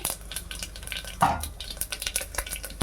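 Mustard, cumin and fenugreek seeds frying in hot oil, a fluttering crackle with light pops and a brief louder scrape of a utensil in the pan, close and steady with nobody speaking.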